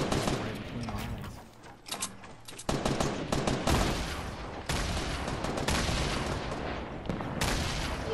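Rapid gunfire bursts and fusillades in the video game Fortnite, loud and dense throughout with sharp repeated shots and a few heavier booms.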